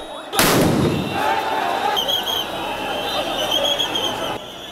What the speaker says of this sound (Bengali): প্রথমে কয়েকটি সাউন্ড গ্রেনেড নিক্ষেপ করে আইন শৃঙ্খলা রক্ষাকারী বাহিনী